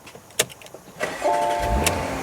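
A 2021 Porsche Macan starts after a couple of clicks, its engine cranking and then catching into a steady idle close by.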